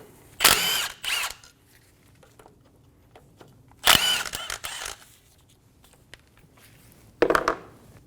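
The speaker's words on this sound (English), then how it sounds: "Using a 16mm socket, we're going to remove the 2 caliper bolts." A socket tool removes the two caliper bolts from the front brakes of a 2019-2025 Ram 2500, producing three loud, close bursts of rapid ratcheting with quiet pauses between.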